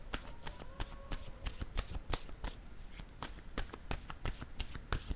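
Playing cards being laid down and shuffled, a rapid run of crisp close taps and flicks in an irregular rhythm, quiet and alone with no talk.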